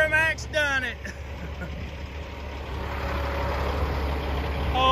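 A Duramax diesel truck engine runs at a low steady rumble that rises slightly toward the end, with someone talking excitedly at the start and again near the close.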